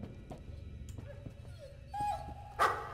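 Dogs in the horror game Layers of Fear whine and yip faintly, with a few short, rising whimpers over a low background hum, growing louder toward the end.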